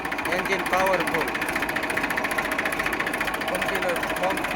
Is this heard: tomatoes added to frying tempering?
no